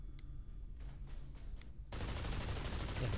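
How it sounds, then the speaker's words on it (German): Gunfire in the video game Metal Arms: Glitch in the System: a few quick separate shots, then a sudden dense, loud burst of sustained rapid fire. "Hey, ich schieße einfach drauf."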